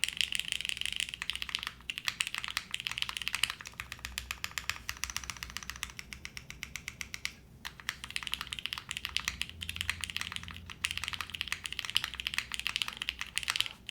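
Rapid, steady typing on an Arc60 plateless mechanical keyboard with filmed switches: dense, crisp keystroke clacks close up, with a few brief pauses and no voices.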